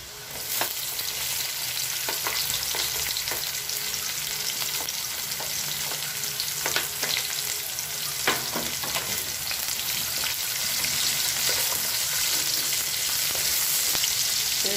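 Chopped onion sizzles steadily in a hot pan of oil while cooking tokwa't baboy with vegetables, a continuous dense crackle with occasional sharp pops and spatters throughout.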